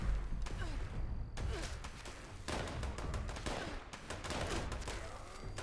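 Bow shots against a level 100 super mutant in Fallout 76, a string of sharp, fairly loud game impacts and thumps over a steady, busy background of game ambience and music, with no talking.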